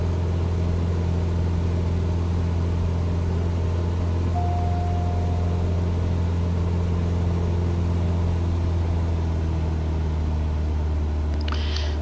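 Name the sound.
Cessna 172 engine descending, Microsoft Flight Simulator video game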